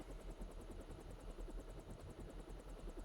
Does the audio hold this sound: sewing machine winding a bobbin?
no